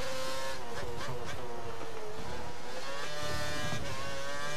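Formula 1 cars pull out together in the F1 2013 game during Australian qualifying. A loud, continuous, layered engine whine rises and falls in pitch as several cars accelerate close by.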